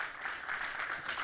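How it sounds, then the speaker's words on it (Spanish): A church congregation applauding, a brief burst of many hands clapping together as a soft, even wash, somewhat distant. "Dale ese aplauso al Señor"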